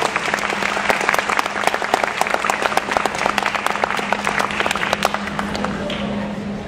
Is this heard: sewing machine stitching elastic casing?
no